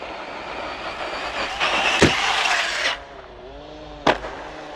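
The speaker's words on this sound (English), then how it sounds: "So addictive hitting this ramps with speed on this car." Arrma Typhon RC car racing at speed onto ramps, its motor whining loud and close before fading, with two sharp impact thuds as it lands.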